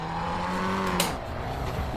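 Abarth car in the racing game Assetto Corsa EVO: a buzzy, whining engine note holding steady and then dropping off as it shifts or lifts, with a brief crackling pop, continuous and close.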